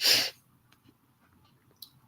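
One sharp, close sneeze at the start, followed by quiet rustling and a faint breath.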